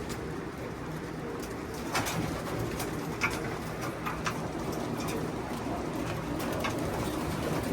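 Racing pigeons in a one-loft race loft coo softly and repeatedly against a low, steady background hum, with a few sharper bird calls scattered throughout and no talking.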